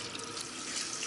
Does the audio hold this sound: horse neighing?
no